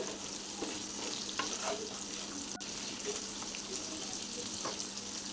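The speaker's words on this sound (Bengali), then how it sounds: "আমটা তেলের মধ্যে কষতে হবে যতক্ষণ না আম নরম হয়" Raw mango pieces with salt and turmeric fry in oil over a medium flame, making a close, continuous sizzle broken by occasional scraping stirs in the pan.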